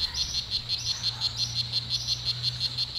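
Red-eyed diurnal rana roja, a brightly coloured toxic frog in a rainforest, calls in a steady run of short, high chirping notes, about three per second, over a low constant hum, moderately close and alone without talk.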